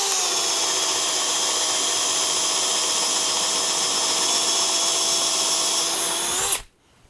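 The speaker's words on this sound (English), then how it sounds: "This is a really good drill driver." A DeWalt DCD780 drill driver bores into wood with a self-feeding 1 1/8 inch paddle bit, a loud, steady, close whine sustained for over six seconds before stopping abruptly.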